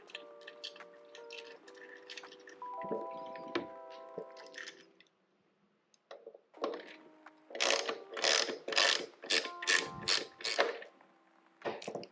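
Half-inch bolt being tightened with a ratchet to hold a headlight on the bracket of a T-Sport fairing on a Harley M8 Street Bob, with a run of close, loud repeated clicking bursts after a brief pause.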